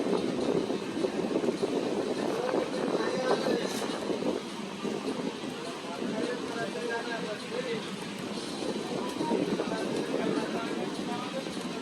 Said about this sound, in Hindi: बारिश हो रही है हल्की हल्की और ट्रेन हमारी चल रही है।